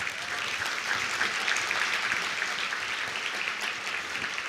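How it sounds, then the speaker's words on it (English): Sustained applause from an audience after a talk, a dense even clatter of clapping hands holding steady throughout. "Ladies and gentlemen, a big round of applause for Dr. Karla Williamson"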